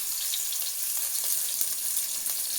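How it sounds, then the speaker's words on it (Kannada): Chopped onion frying in hot oil for a fish curry gives a steady, bright sizzle that runs unbroken and close by, with faint crackles and no voices. "ಎಣ್ಣೆ ಕಾಸ್ಬಿಟ್ಟು ಈರುಳ್ಳಿ ಹಾಕಿದರೆ"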